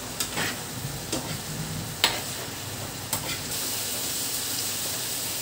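Chicken pastel is stirred in a pan over a steady simmering sizzle, with several distinct scraping strokes of the spoon close by before the bubbling settles into a constant hiss.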